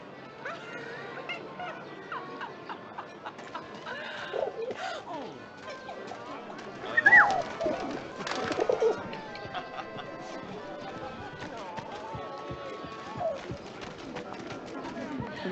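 Pigeons cooing softly in a Paris scene of the video game 11-11 Memories Retold, a low murmuring coo among shuffling and fluttering ambience, with people talking over it throughout.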